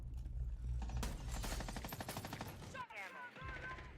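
Rapid gunfire rattles loudly through a competitive shooter video game match, a dense burst of automatic shots for most of the stretch before a short break and a quieter tail.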